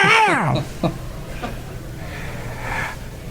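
A voice imitates a cat hacking up a hairball: a strained, wavering wail that drops in pitch, followed by short choking gulps and rasps.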